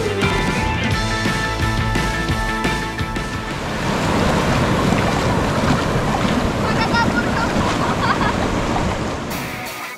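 Strong ocean waves on Karangnawing beach along Java's south coast, a loud continuous surf rush with crashing swells and wind buffeting the microphone, building slightly midway and staying dense throughout.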